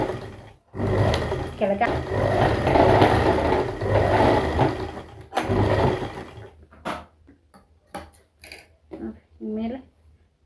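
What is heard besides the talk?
sewing machine stitching pants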